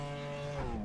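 Engine of a high-revving car in Project Cars, a racing video game, holding a steady loud tone before the pitch shifts near the end of the brief burst, close and with no talking.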